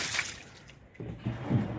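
Water pours and splashes out of a water drum as it is being washed, a short gush that fades and then sloshes back in twice, close by.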